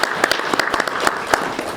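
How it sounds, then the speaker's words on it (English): Audience applause at the launch of a national gender and climate change task force, a dense spread of many hands clapping steadily with sharp individual claps rising above the wash, loud and continuous throughout. "Let's give them a round of applause."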